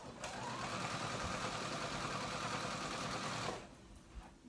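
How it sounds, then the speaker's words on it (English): A sewing machine runs a basting stitch along the sides of kids' moto-style pants, a steady close whirring hum for several seconds that stops abruptly, followed by quiet handling. "I'm going to do a basting stitch on the sides"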